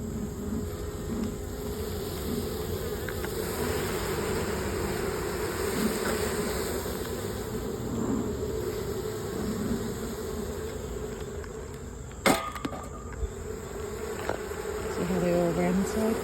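Agitated honey bees swarm and buzz around an opened hive after being smoked, a dense continuous drone close by, with a few clicks and rustles of handling near the end.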